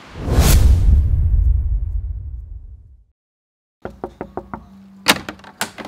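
Someone knocks on a door several times in quick succession, a series of sharp, close raps ending in a louder final pair. A loud whooshing swell comes first and fades into silence before the knocks.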